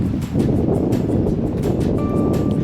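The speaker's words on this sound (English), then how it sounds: "And it's a windy, chilly day." Strong wind buffets the microphone on a chilly outdoor nature hike, a loud, continuous low roar that gusts slightly, with a faint tone entering near the end.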